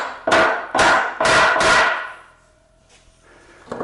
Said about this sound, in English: These are very deliberate, straight down whacks on that nail to discourage it from kinking